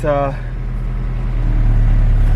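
Honda B20B engine idling under the closed hood of an EK hatchback, a steady low rumble running throughout with a brief voice at the very start.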